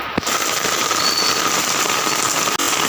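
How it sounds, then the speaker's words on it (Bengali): Heavy afternoon rain pours down in Nepal, a dense, steady hiss of drops striking surfaces nearby, with a couple of sharp knocks and no talking. "দেখুন এখন বিকেল 4টে বাজে, এখানে কেমন বৃষ্টি হচ্ছে"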